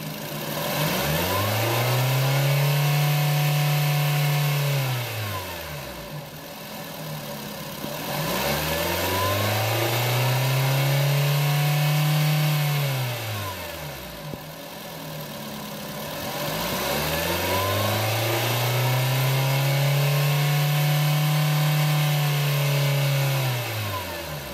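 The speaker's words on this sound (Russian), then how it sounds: "Работа двигателя на высоких оборотах." A 2006 Nissan Note with a 1.6-litre HR16DE engine revs hard three times, each long rise to high RPM holding briefly before falling back toward idle, loud and close with no talking.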